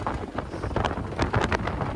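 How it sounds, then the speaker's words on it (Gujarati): Strong wind at sea roars continuously against the microphone aboard a fishing boat, a dense, loud rush with gusty buffeting and no clear speech. "દરિયામાં પવન જો તમે પુષ્કળ પવન છે"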